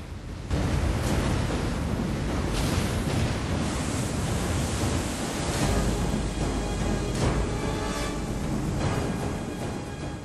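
Huge sea waves flood a city in a disaster-film scene, a continuous heavy roar of surf and rushing water with wind-like rumble, loud and unbroken from start to finish.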